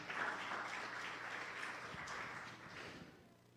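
A church congregation at a New Year renewal service applauds softly and steadily. The clapping sounds faint and distant, a smooth wash with no voices over it.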